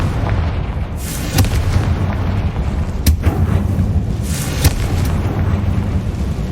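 Confringo explosive spell blasts in Hogwarts Legacy, several sharp booming bursts at irregular intervals over a continuous rumbling background, loud and close.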